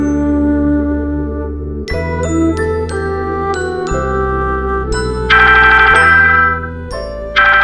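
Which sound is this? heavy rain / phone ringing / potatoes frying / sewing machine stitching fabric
phone ringing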